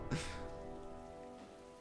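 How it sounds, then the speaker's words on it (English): Heavy rain pours down from gray, overcast skies as a faint, steady hiss, mixed with a low sustained musical drone that fades slowly, with no one speaking. "The clouds are packed in tight overhead, gray and angry rain pissing down on me."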